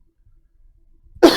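A single sharp cough bursts out near the end after near silence, close and loud, during a gaming podcast.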